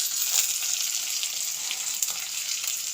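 Chopped onion, green chilli, curry leaves and garlic sauté in hot oil, giving a steady, close, even sizzle with a few small pops and no voices.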